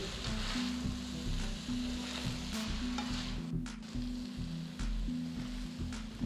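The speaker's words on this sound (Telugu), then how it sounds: "ఒక టీ స్పూన్ అంత గరం మసాలా పొడి ఒకటిన్నర టీ స్పూన్ల ఆమ్చూర్ పొడి వేసి రెండు మూడు నిమిషాలు వేయించాలి" Pointed gourd masala curry sizzling steadily in a pan after garam masala and amchur powder go in, a continuous close frying hiss with occasional stirring scrapes throughout.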